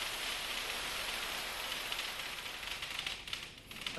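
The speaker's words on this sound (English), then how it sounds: "that's exactly what we did to create a designer hailstorm" An artificial hailstorm: a dense, steady hiss of rapid patter fills the clip, like hard pellets drumming continuously on a surface, loud and unbroken.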